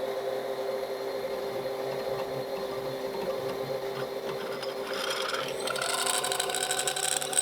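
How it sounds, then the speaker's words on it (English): A reamer scraping the inside of a wooden bagpipe part being bored, a steady whirring scrape that runs on continuously and grows slightly harsher and brighter toward the end, with no talking. "this is scraping"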